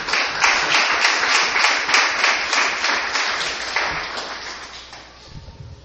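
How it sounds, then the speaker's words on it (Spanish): Church congregation clapping and applauding together, a dense steady wash of many hands that holds for several seconds and then gradually fades out. "Démosle un aplauso al Señor."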